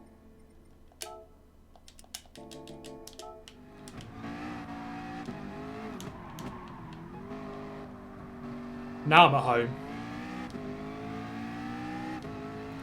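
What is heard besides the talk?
McLaren race car engine in Gran Turismo Sport video game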